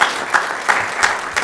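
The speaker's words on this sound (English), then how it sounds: "Let's give her a round of applause." An audience claps at a city council meeting, a brief, steady patter of applause with rhythmic peaks, close and moderately loud, no talking over it.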